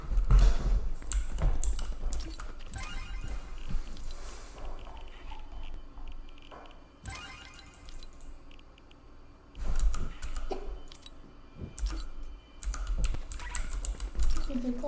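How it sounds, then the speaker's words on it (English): Rapid, busy typing on a keyboard fills the stretch, with clicky keystrokes in bursts and brief pauses, fairly close, while a voice talks over parts of it. "I thought this was a custom keyboard at first."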